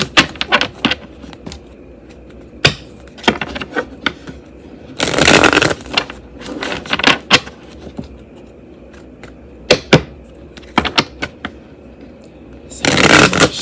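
Hoodoo Tarot cards being shuffled in several short riffling bursts, close and crisp, with the longest flurry mid-way and another at the end, separated by quieter rustling and handling.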